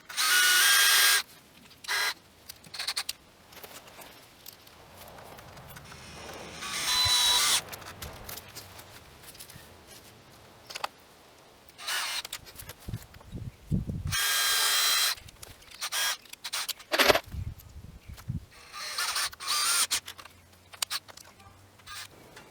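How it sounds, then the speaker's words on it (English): A power drill bores pilot holes into pallet wood in bursts of whirring, stopping and starting, with some handling noise between runs and occasional faint voices. "drill a pilot hole. You don't want the wood to crack."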